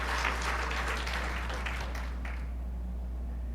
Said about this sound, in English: Who else in this room just wants to clap right now?